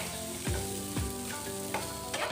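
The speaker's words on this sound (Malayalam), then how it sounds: "എല്ലാം കൂടി നന്നായി ഇളക്കി കൊടുക്കുക" Egg 65 mixture being stirred in a pan, a steady close sizzle with a few low scraping sweeps of a spoon at roughly half-second intervals, no talking.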